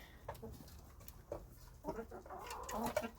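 Backyard chickens pecking at chopped lettuce, with soft clucks and faint scratchy pecking sounds, quiet and close. Bird calls become slightly busier toward the end.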